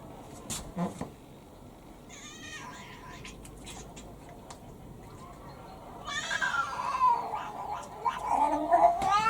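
A cat meows and yowls repeatedly in protest while being held and given something to swallow, close by, mixed with people talking and handling noises.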